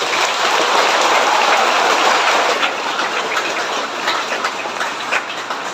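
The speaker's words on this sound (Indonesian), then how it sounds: "mari kita berikan tepuk tangan untuk diri sama-sama" Sustained congregation applause at a Holy Saturday Easter celebration in a church, a dense, even wash of many hands clapping that fills the space and eases slightly toward the end, with no voices.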